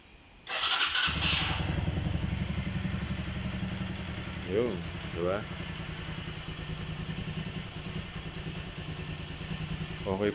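A Keeway Cafe Racer 152 motorcycle engine cranks and catches after a short starter burst, then settles into a steady, close idle with a couple of small throttle blips while a voice talks over it.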